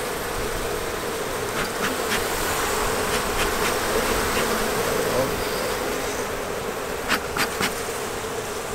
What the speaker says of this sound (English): It has a third of a pound of bees in it and two little small cones.